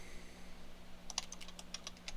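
Quiet, close typing on a computer keyboard during a Linux install: a short, irregular burst of key clicks after a brief stretch of low background hum, with no speech.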